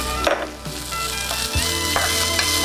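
Chicken stir-fried with rice in a pan for fried rice, a steady close sizzle of frying with a few scraping stirs and clatters.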